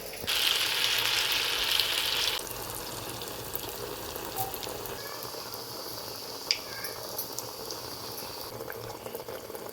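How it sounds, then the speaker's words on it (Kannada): Sweet yerappa batter ladled into hot oil, bubbling and frying with a brighter hissing burst for the first couple of seconds, then settling into a softer, steady bubbling with a few faint clinks. "ಒಂದೊಂದೇ ಸೌಟು ನಾವು ಈ ಎಣ್ಣೆಗೆ ಹಾಕಬೇಕು ಗುಳ್ಳೆ ಗುಳ್ಳೆ ಬರ್ತಾ ಉಂಟಲ್ವಾ"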